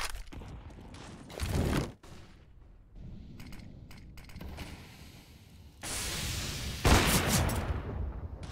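Bursts of gunfire in the video game CS:GO on the Dust2 map, with sharp cracks, rapid volleys and loud booming stretches mixed with quieter gaps and clicking in between.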